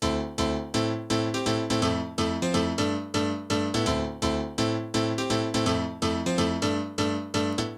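Korg M1 VST piano, mono, playing a UK house chord progression from a MIDI pattern: rapid, punchy chord stabs in a bouncing syncopated rhythm, bright and upfront, alone without talk.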